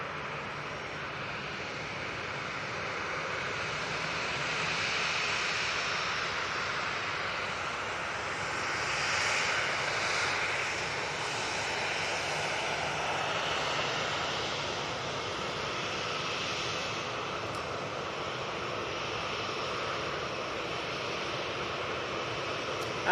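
A Ryanair jet passes at Manchester Airport, a broad, steady engine rush with gentle swells in loudness and no voices.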